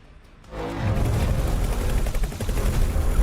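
Spaceship turret gunfire in X4 Foundations starts abruptly after a quiet moment and continues as a loud, dense stream of rapid shots and impacts.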